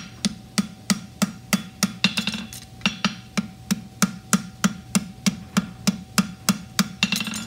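A hammer strikes a hot horseshoe during blacksmith forging of a cap toe with extended heel, about twenty sharp ringing metallic blows in a steady, evenly spaced rhythm. The clanging sits close and loud with no talk.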